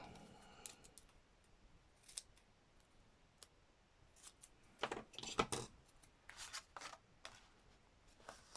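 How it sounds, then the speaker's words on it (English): Scissors snip through paper in a craft session: a scattered series of quiet, crisp clicks and short cuts, some in quick bursts, close and faint against a soft background. "Scissors."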